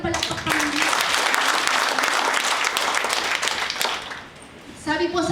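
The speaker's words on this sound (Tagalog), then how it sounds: "Bigyan nga natin ito ng palakpak Panginoon" A church congregation bursts into sustained applause, a dense wash of clapping from many hands lasting several seconds, with a voice speaking at the start and again as it fades.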